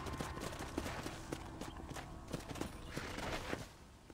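Horse hooves clop in a steady walking rhythm under a wash of ambient noise, moderately close and fairly faint, in Red Dead Redemption on PS5.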